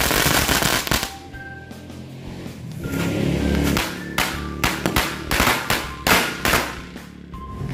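Small Indonesian New Year firecrackers of the bank smoke tap butterfly type go off in a rapid crackling volley, followed by several loud, separate pops spaced about a second apart, close by and outdoors.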